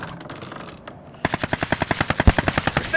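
Rapid automatic gunfire aimed at the player in Call of Duty: Modern Warfare, a fast, steady burst of loud close shots after a second of quieter background noise.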